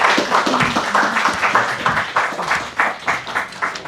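An audience at a talk applauds with dense, uneven clapping that holds steady through the clip, close and fairly loud, with no clear speech.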